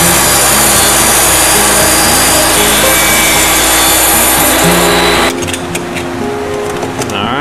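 A saw fitted with a 12-inch finishing blade cuts through aluminum, a loud, harsh continuous whine and grind for about five seconds before the blade breaks free and the motor winds down.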